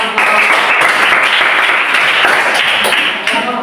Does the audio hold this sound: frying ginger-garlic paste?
no